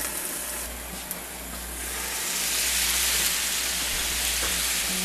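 Marinated pork chops in adobo cooking in a covered pan give off a steady, dense sizzling hiss that swells slightly louder partway through and continues without any voices.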